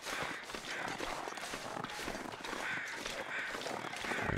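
Crows caw repeatedly as they fly overhead in the snowy wilderness of the survival game The Long Dark, their harsh calls close and overlapping across a few seconds.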